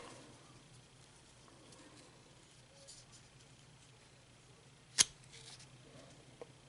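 A Gerber Downwind Caper knife slices through a ratchet strap in one quick, sharp cut that stands out against a quiet background, followed by a faint click.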